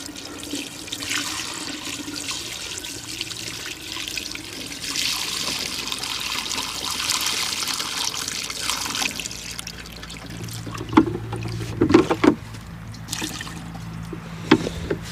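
Water drains and trickles from a Sea-Doo GTX DI jet ski during end-of-season work, a steady splashing flow that later gives way to a few louder knocks and bumps.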